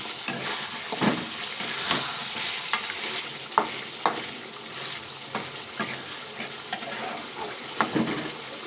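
Chicken curry sizzles in the pan as broth is poured in and stirred, a constant frying hiss broken by regular knocks and scrapes of the spoon, close up with no voices.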